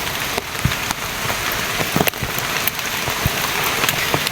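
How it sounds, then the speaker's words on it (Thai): Heavy rain falling in a deep forest, a dense steady hiss of drops pattering on leaves and surfaces with scattered louder splats, close and continuous with no voices. "วันนี้ฝนตกหนักด้วยครับ"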